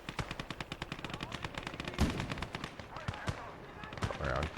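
A video game machine gun fires in rapid bursts of sharp, evenly spaced shots, with heavier blasts and battle noise joining in partway through.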